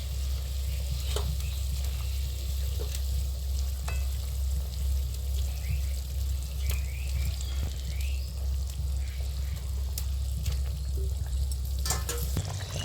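Rohu fish curry bubbling and sizzling in a pan as fried fish pieces go in, with a steady close crackle, occasional clinks and stirring scrapes throughout.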